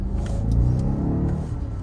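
A 2021 BMW 750i engine under hard acceleration in sport mode, a deep, loud, continuous rumble with rising engine tone heard from inside the car.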